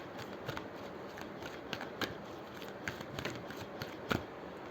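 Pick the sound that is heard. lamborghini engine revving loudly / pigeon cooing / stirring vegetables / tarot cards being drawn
tarot cards being drawn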